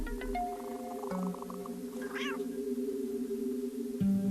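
A cat meows once, a rising and falling cry set against steady tonal background music and a continuous hum, with no talking over it.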